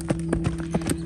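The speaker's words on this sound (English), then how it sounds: "as I make him go faster, there he goes, he starts pacing" A gaited horse pacing, its hoofbeats falling in a quick, even rhythm of about four or five close, clear strikes, with a steady low hum behind them.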